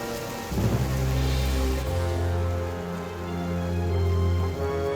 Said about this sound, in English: Salty was right about the storm.